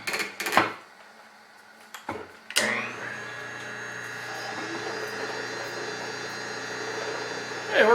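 A fluid pump in an Everclean machine runs while filling with oil, starting after a few clunks and settling into a steady, loud mechanical whine and hum.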